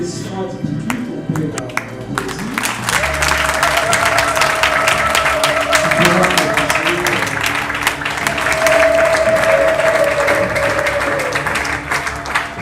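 Applause and clapping from a crowd at a doctoral thesis defense, starting after a brief quiet moment and swelling into sustained clapping with some cheering, while people talk underneath.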